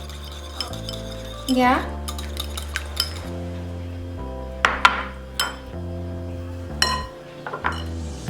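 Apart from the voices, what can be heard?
lightly beating eggs in a bowl for pancake batter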